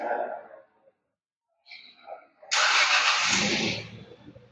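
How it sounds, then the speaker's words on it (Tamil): Kia Syros HTX engine cranking and catching after a push-button start, coming in with a sudden broadband burst after a brief silence, then settling into a steady idle nearby; a soft voice or breath precedes it. "இதை வந்து நீங்கள் லாங் ப்ரெஸ் பண்ணீங்கன்னாக்கா வண்டியோட என்ஜின் வந்து ஸ்டார்ட் ஆகும்."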